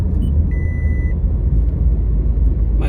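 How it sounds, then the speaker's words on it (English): A car's warning tone beeps over the low, steady rumble of an idling or moving engine, with a brief higher beep standing out for about half a second amid continuous road noise. "My car's beeping at me."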